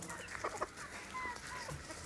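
Several chickens cluck in short, irregular bursts nearby against steady background noise, with no one talking.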